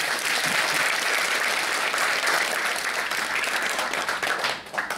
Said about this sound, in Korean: 큰 박수로 격려하고 축하해 주십시다